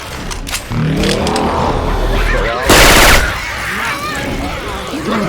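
Syphon Filter weapon effects fire in Left 4 Dead 2 gameplay, with a sudden loud rapid burst of gunfire cutting through rumbling in-game noise and other game sounds, close and harsh.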